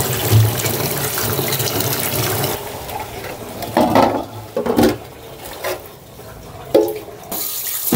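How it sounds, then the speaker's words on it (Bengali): Running water splashes and sloshes irregularly as bathua greens are rinsed to wash out sand, with uneven bursts of swirling water, close and steady, no talking. "কয়েকবার করে ধুয়ে নিব, তাহলে বালি টালি থাকলে সব চলে যাবে।"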